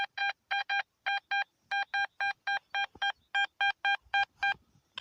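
A metal detector signal: a rapid series of short, bright electronic beeps in an even pulsing rhythm, loud and close, with a brief pause partway through.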